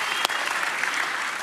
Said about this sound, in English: Let's give all the candidates a round of applause.